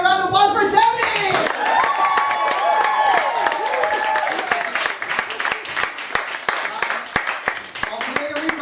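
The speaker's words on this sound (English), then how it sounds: "Let's give another round of applause for Deby!" An audience claps in a loose, uneven patter with sharp individual hand claps standing out, while a voice speaks over the start and several people call out amid the applause.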